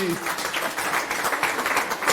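Church congregation applauding a collaborator, a continuous wash of clapping that holds steady throughout, with a brief tonal voice at the start.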